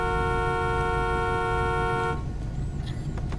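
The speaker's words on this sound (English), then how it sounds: "some asshole is honking back there" A car horn in GTA V blares as one long, loud sustained honk for about two seconds, then cuts off, leaving engine rumble and faint street sounds.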